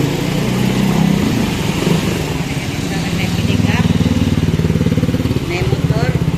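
A motorcycle on Illustre Street, an old commercial street in Davao City, its engine rumbling close and loud with a pulsing drone that swells and fades as it goes by, while people talk over it.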